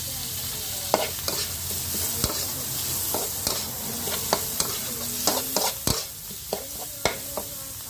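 White fish, fried crisp earlier, being stir-fried with chili curry paste and basil, busy sizzling under repeated sharp scrapes and clanks of a spatula against the pan, a dozen or so distinct strikes over the steady frying.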